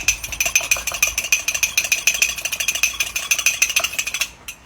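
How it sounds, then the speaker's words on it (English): A fork whisking egg in a bowl for an egg wash gives fast, even, bright clicking strokes at a steady rhythm, close up and without talk, ending abruptly after about four seconds. "We need a fork just to whiz it up."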